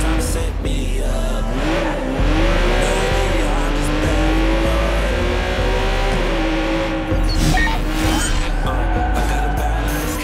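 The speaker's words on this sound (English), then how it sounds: "Let's park our car past the scissor lift and go scout the place on foot." A car races in the video game Watch Dogs 2, its engine roaring loud and constant as it rises and falls in pitch, with tires squealing and skidding throughout.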